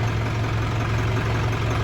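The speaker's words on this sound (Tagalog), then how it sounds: "Ba't na naman yung tunog ng makina" An Isuzu ELF NKR freezer van truck engine idles steadily with a deep, constant rumble and low hum, continuous and close, with no voices over it.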